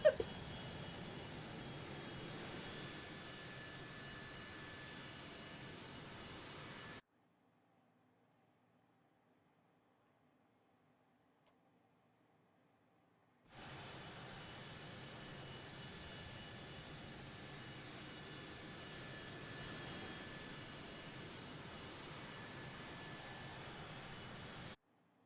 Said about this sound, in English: Left engine start.